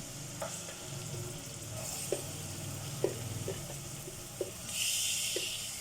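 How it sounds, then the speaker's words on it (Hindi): Chicken goes into hot oil for achar gosht, a low steady sizzle with scattered light clinks of stirring, swelling into a louder hiss near the end, fairly quiet and without speech. "अब इसमें हम ऐड कर देंगे अपना चिकन।"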